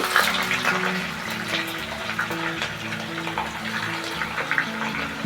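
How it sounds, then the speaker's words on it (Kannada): Sliced onions slipped into hot oil to fry for vegetable palav, producing a steady bubbling sizzle with a few sharper crackles, heard under soft background music. "ಈಗ ಎಣ್ಣೆ ಕಾದಿದೆ ಇದಕ್ಕೆ ಈರುಳ್ಳಿನ ನಾವು ನಿಧಾನಕ್ಕೆ ಎಣ್ಣೆಗೆ ಹಾಕಿ"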